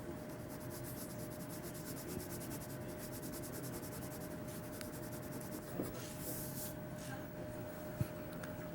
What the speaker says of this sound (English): I'm going to turn my pencil sideways to get some good shading.